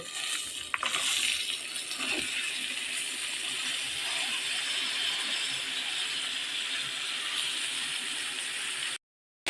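Washed, cut mixed vegetables hit hot oil in a pan for a Bengali mixed vegetable fry, giving a loud, steady hiss and sizzle that holds for several seconds before cutting off abruptly.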